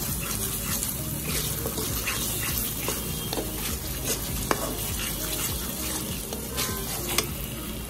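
Steady frying sizzle with occasional spoon stirring and scraping as onion, ginger-garlic paste and almond paste are mixed together in a pan for a shahi chicken pulao.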